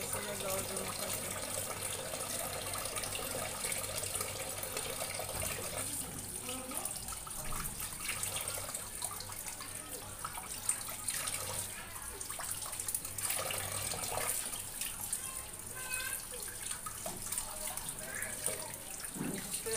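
Tap water running steadily over fresh fish as it is washed at a sink, a continuous close splashing and pouring with occasional drips and faint handling.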